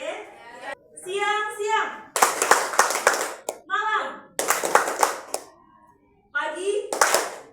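Children clap their hands in short counted bursts during a morning-noon-night clapping game, sharp claps alternating with a voice calling out the words.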